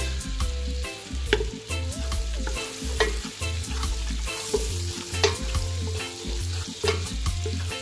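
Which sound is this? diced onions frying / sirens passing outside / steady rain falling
diced onions frying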